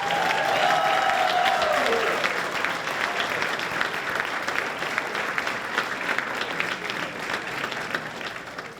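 A crowd at a high school athletics hall of fame ceremony claps and cheers, loudest at the start and then settling into steady applause that carries on to the end.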